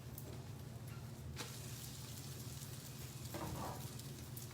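An egg frying in a hot pan for a breakfast banh mi, a steady quiet sizzle and crackle throughout with no talk.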